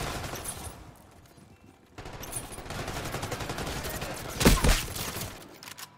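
Shotgun fire in the Black Ops 6 video game: a dense game soundscape of gunfire, with one loud, sharp blast near the end followed by a brief echoing tail.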